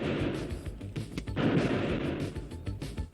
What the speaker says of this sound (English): Some more fireworks.